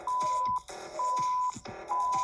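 Countdown timer in a virtual game round beeping in a steady repeating pattern, three long electronic tones about half a second apart, loud and close with no talking.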